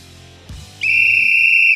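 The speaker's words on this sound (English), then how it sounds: "Kickoff Kevin, whistle us in." A referee-style sports whistle gives one loud, piercing, sustained blast to open a football podcast. It follows a brief soft thump and sounds close and alone, with no talk.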